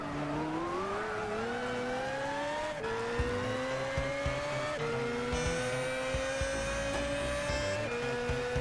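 Tuned race car in the video game Gran Turismo 6, its engine revving loud and steady with rising pitch through repeated gear shifts, upshifting every couple of seconds alone without talk.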